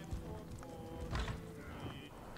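Horse hooves in the video game Elder Scrolls Online, soft clip-clop steps running under steady game music and ambience, fairly faint and continuous.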